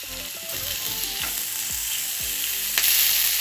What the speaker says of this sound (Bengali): দিয়ে নিলাম তেল, দিয়ে পেপার আর টমেটো একসাথে করে